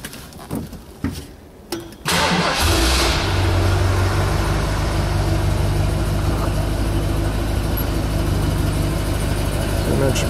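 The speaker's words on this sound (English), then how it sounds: "let's go ahead and fire this 400 cubic inch LTD up" A 1971 Ford LTD convertible with a 400 cubic inch V8 cranks briefly after some quiet clicks and handling, catches at about two seconds, and settles into a loud, steady, rumbling idle that holds to the end.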